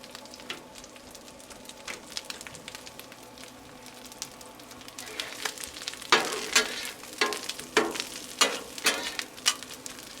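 Chorizo and tortillas fry on a Blackstone griddle, a soft continuous sizzle punctuated by louder bursts and scraping of a spatula that grow busier toward the end.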